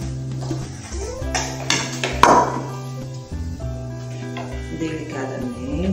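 Homemade cake batter stirred gently in a bowl, the utensil clinking and scraping against the sides in irregular taps, with a louder clatter midway, over a steady tonal background.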